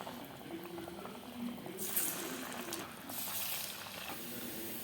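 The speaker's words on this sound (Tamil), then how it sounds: "ரெண்டு பக்கமும் நல்ல பொன்னிறமாக நம்ம வந்து பொரிச்சு எடுத்துருவோம்" Prasadam deep-frying in hot oil until golden, a steady close bubbling hiss with surges of crackling fizz midway and near the end, no voices.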